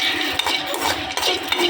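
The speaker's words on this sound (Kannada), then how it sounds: "ಅದಕ್ಕೆ ನಾನು ಬೆಳ್ಳುಳ್ಳಿ ಕೂಡ ಹಾಕ್ಕೊಂಡು ರೋಸ್ಟ್ ಮಾಡ್ಕೊಳ್ತಾ ಇದ್ದೀನಿ, ಫ್ರೈ ಮಾಡ್ಕೊಳ್ತಾ ಇದ್ದೀನಿ." Garlic roasting in oil in an old pan for tomato chutney, with clinking utensil scrapes and stirring over a faint sizzle, close up and without talk.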